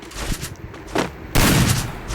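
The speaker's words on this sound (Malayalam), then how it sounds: "M80 വെച്ച് വെടി വെച്ചേക്കാം." M80 rifle fire in a mobile shooter game, a quick burst of sharp crackling shots followed by a louder, denser volley, close and harsh over a short span.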